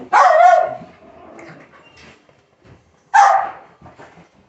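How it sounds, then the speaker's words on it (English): Two loud, close barks from a young dog, separated by a few seconds of near quiet with faint movement. "we've got in here, we've got our puppies"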